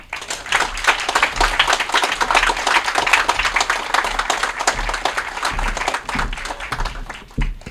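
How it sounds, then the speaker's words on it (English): Crowd at a Real Heroes event in McMinnville's Granary District giving loud, dense applause for an Oregon National Guard lieutenant colonel, sustained clapping from many people with a low rumble beneath. "Let's give a huge round of applause for Lieutenant Colonel Hamill."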